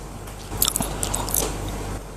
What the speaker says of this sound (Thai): กุ้งดองกรอบมาก